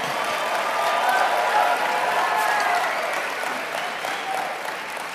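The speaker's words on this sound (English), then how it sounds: "Give yourselves a round of applause." A seminar audience of aspiring network-marketing speakers applauds themselves, a dense, sustained wash of clapping that holds steady for several seconds and eases off slightly toward the end, with no voices over it.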